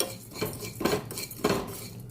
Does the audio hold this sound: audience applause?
no